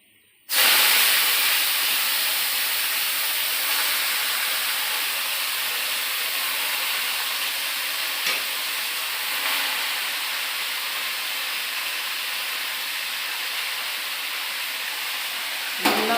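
Water spinach greens hit a pan of fried garlic with a sudden loud burst of sizzling, which then holds as a steady, close hiss for the rest of the time with no talk.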